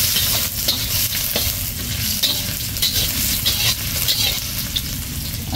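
Ginger fries in a pan with a constant close sizzle. Repeated stirring and scraping sounds are spread evenly throughout.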